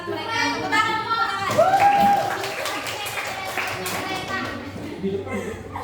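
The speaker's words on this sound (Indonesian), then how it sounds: "Tepuk tangan semua." Scattered clapping from a group of high-school students mixes with chatter and young voices, a lively, uneven round of applause indoors at a school talk.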